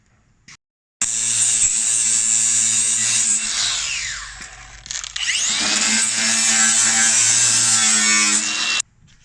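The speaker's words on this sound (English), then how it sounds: "we're just gonna go around with a little flopper disc and clean it up, deburr it" An angle grinder fitted with a flap disc deburrs the freshly cut metal edge of a 2013-2018 RAM 1500 truck bumper during a hidden winch install, whining loudly up close in long steady passes with one short pause and pitch dips under load.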